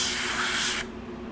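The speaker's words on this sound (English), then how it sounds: "I'm just going to blow out the airbrush a little bit" Airbrush being blown out during hair painting, a single loud, close burst of hissing spray lasting under a second before cutting off sharply.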